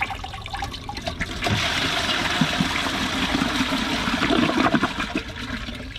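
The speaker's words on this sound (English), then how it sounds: "Second flush, let's see if it unclogs itself" A toilet, clogged with thick tissue paper, flushes in a close rushing surge of water that swirls and gurgles for several seconds, with no voices.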